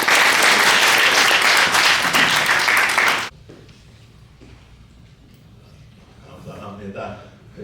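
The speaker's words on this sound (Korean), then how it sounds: "서로 한 번 더 격려의 박수 하겠습니다" An audience at a Martin Luther King legacy dinner gives loud, dense applause for about three seconds, then it cuts off abruptly into quiet room noise with faint murmuring and movement.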